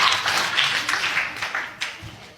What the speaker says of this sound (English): I'm not going to say that deserves a round of applause, even though you got one